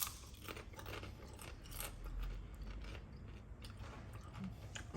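Crunchy air-fried potato peel crisps being bitten and chewed, with a handful of sharp, brittle crunches in quick succession, close up but quiet, with no talking.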